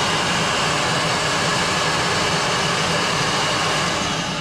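An FLK-300 vacuum loader for polymer granules runs suction, giving a loud, steady, broadband roar that holds evenly throughout with no voices.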